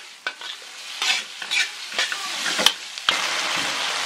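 Asparagus, cured pork and red chili stir-fried in a wok with ginger and garlic, giving a hot crackling sizzle broken by a few sharp spatula scrapes and tosses, close and loud.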